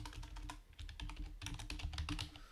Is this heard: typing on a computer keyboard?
yes